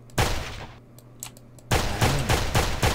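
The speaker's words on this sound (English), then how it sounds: "this pistol's a lot stronger than the one in the second game." Pistol fire in the first-person shooter Gross Laser Drill Robot, a loud sharp shot near the start followed by a rapid burst of several more shots later, with no music or talk.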